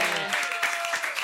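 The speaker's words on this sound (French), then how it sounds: "nous allons déjà applaudir Monsieur Salim" Audience applause for a contestant on a French game show, a dense steady wash of clapping filling the whole moment, with a sustained tone and faint voices underneath.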